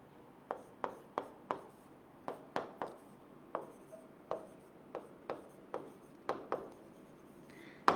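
A teacher writes a sentence on a board, producing a quiet room's worth of sharp, uneven taps and short strokes, around eighteen distinct hits in quick clusters with brief pauses between words.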